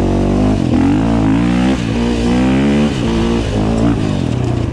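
An enduro motorcycle engine revs loudly and repeatedly up and down, close by, with no voices over it.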